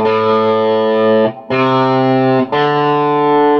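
Heavily distorted electric guitar plays a riff in three loud sustained phrases, each briefly cut before the next, with no talking.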